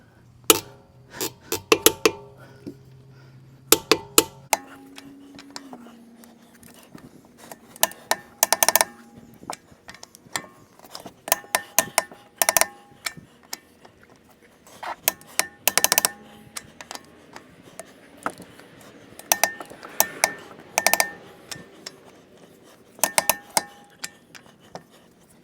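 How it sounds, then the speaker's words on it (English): A torque wrench tightens lug nuts on a 2014 AWD 3.6-litre Dodge Journey, giving sharp metallic clicks and clinks in irregular bursts, close and fairly loud, with quiet gaps between them. "you're going to want to torque the lug nuts to 116 foot-pounds"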